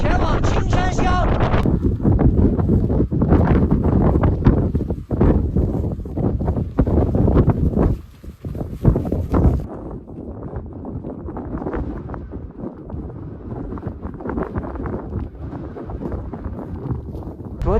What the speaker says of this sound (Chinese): 但是凌晨就起风了，一直到现在刮的风都特别的大